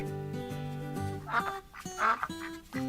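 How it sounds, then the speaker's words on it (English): A duck gives two short, nasal quacks after a few seconds of sustained tonal background sound. "A duck."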